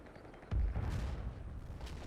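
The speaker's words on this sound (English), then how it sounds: "Blasted that mortar barrage going in there." A mortar barrage lands in the WWII tactics game Combat Mission: a loud, deep explosion hits at half a second, then a rolling rumble of further blasts and debris fades into the low battlefield ambience.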